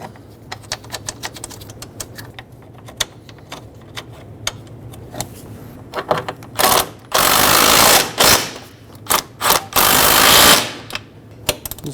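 Power tool driving two bolts to secure a radiator side mount on a 2011-2016 Ford F-350 with the 6.2L V8, a few loud close bursts of whirring and rattling after scattered clicks and clanks, no talk.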